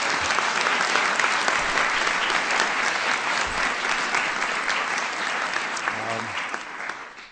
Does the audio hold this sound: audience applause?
yes